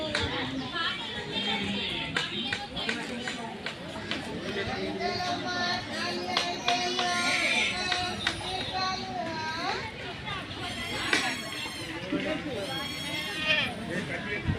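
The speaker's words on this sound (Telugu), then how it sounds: "అమ్మో ఇంత పెద్ద మేకపోతు" A big male goat bleats in several wavering cries amid steady chatter from adults and children playing nearby.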